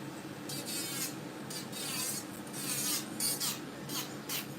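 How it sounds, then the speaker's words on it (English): A gritty, buzzing rasp of an electric nail drill with an extra coarse bit grinding an acrylic nail surface in short repeated passes, close and steady, without speech. "Then let's go in with my drill."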